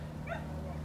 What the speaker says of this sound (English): Now there's a dog fight over here.